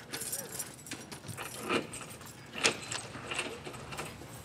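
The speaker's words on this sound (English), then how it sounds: "Keys!" Keys jangle and rattle close by in a handheld recording, a continuous metallic shuffling with a few brighter clinks amid rustling noise.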